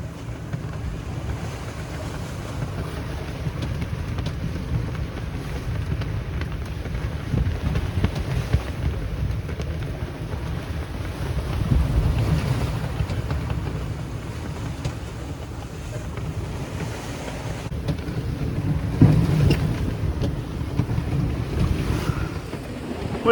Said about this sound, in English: Wind continues to pick up, waves getting a little bigger.